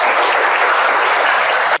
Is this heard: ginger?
no